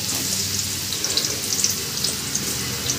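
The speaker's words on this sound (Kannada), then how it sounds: "ಈಗ ಈರುಳ್ಳಿ ಹಾಕೋಬೇಕು ಎಣ್ಣೆ ಎಲ್ಲ ಚೆನ್ನಾಗಿ ಕಾದಿದೆ ನೋಡಿ" Onion frying in hot oil for a mushroom curry, a steady crackling sizzle with small pops, fairly close and alone without talk.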